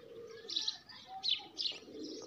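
Pigeons cooing close by, with a few soft chirpy bursts and a faint flutter of wings.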